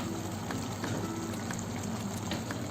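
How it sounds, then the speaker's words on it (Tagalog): Vegetable soup with bottle gourd boiling in a pot, a steady close bubbling simmer with faint pops running evenly throughout, no talking. "Ngayon guys, kumukulo na siya."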